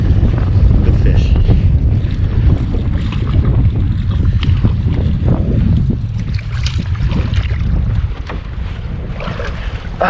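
Strong wind roars across the microphone from start to finish while someone fishes from a boat in early spring, a loud, low, buffeting rush that eases slightly near the end.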